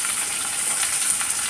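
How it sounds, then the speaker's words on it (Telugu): Onions for aloo bonda sauté in a pan, giving a steady, close hissing sizzle with soft bubbling texture throughout a brief stretch, no talking. "ఇదిగో ఇప్పుడు ఉల్లిపాయలు మగ్గనిద్దాం."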